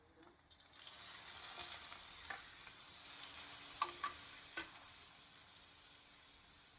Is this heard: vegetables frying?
yes